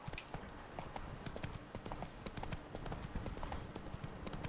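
Horse hooves clip-clop steadily on ground in The Witcher 3: Wild Hunt, Blood and Wine, as an armored horse trots, a quick even rhythm heard fairly close and moderately quiet throughout.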